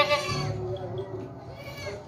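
A female goat that gave birth a month ago, kept with her two kids, lets out a wavering bleat at the start, followed by quieter farmyard background with someone talking nearby.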